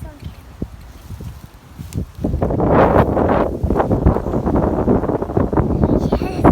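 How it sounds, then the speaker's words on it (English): Strong Hurricane Irma wind roaring and buffeting the microphone at Disney World, rising sharply after a quieter opening and staying loud, with a voice speaking over it. "So windy out here."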